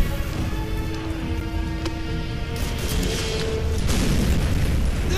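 Rocket explosions from a Panzerschreck in Call of Duty: World at War, loud booming blasts and rumbling debris layered over constant battle noise, with no talk.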